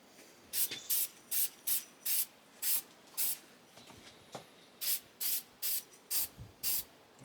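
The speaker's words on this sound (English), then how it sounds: "it sure does spray on nice" Repeated short bursts of aerosol spray paint hissing outdoors on a windy day, about a dozen quick sprays in an uneven rhythm, close by with quiet pauses between.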